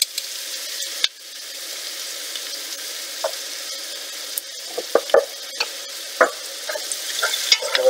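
A spoon stirs a pot of Canadian cheddar cheese soup with melting butter, giving a soft continuous sizzle-like hiss broken by scattered scraping knocks, growing busier toward the end.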